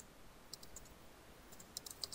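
A password being typed on a computer keyboard: faint, light key clicks in short irregular bursts, scattered across a couple of seconds in a quiet room.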